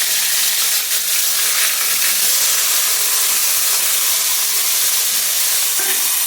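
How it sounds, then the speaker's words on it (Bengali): Paneer pieces frying in a wok with a little salt, a loud, continuous bright sizzle and hiss of hot oil throughout, close up and steady, with no talking. "আগে ছানাগুলি ভেজে নিই,"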